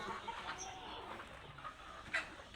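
Chickens clucking at a poultry farm, with low, scattered clucks and calls from several birds over steady background noise and one slightly louder call near the end.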